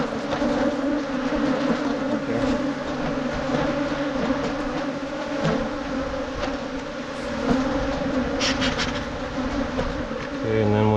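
Honeybees buzzing around an opened hive during almond pollination preparation, a dense, loud, continuous drone of many bees close by, steady throughout with faint handling noises of the hive.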